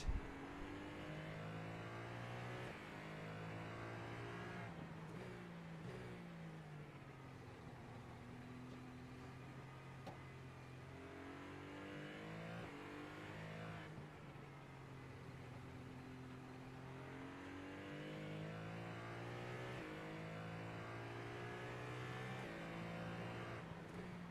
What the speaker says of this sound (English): I think this Ferrari sounds extremely good